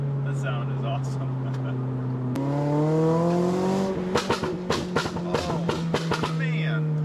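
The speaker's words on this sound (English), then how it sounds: "you can just tune it the way you did and make it sound like an insane beast" A tuned 2020 Toyota Corolla XSE with a loud, stage 2 modified exhaust idles with a low drone and climbs in a smooth rev, then gives a series of sharp throttle blips with popping bursts, close and loud.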